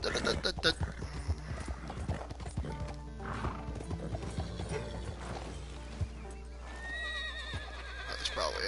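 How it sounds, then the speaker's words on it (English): A horse in Red Dead Redemption 2 clip-clops along, then lets out loud whinnies, with game sounds and a player talking over it. "Oh, don't die, horsey, please."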